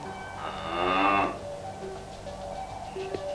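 A single cow moos loudly and close by, a drawn-out call lasting about a second, then quiet farm ambience follows. The animal is standing on railway tracks.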